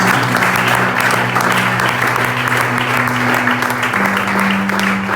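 A church congregation at a French-language service claps and cheers for Jesus, with loud sustained applause filling the room and a steady tone humming beneath it.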